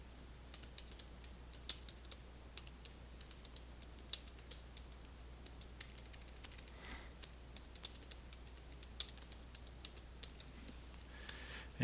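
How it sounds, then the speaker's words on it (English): Typing on a computer keyboard, a continuous stream of light, close key clicks at an uneven quick pace over a low steady hum, with no talking. "And you see me typing here without any word correction type stuff"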